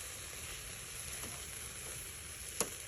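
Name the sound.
pork chop sizzling on a grill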